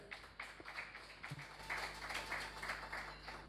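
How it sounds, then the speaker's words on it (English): An audience at a keynote welcomes the speaker with applause, starting as scattered claps and swelling into steady, fairly faint clapping from the crowd. "Sous vos applaudissements, s'il vous plaît."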